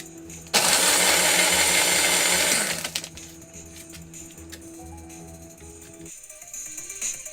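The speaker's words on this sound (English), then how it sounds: "Blend them together in the blender and that's it." An electric blender whirs loudly for about two seconds, crushing ice with dragon fruit, tequila and grapefruit soda, then cuts off, leaving faint background noise.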